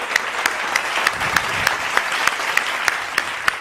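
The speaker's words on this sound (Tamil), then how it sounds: "கைத்தட்டுங்க" A congregation claps together at a Tamil church service, a dense steady patter with sharper rhythmic claps landing roughly every third of a second, close and fairly loud throughout.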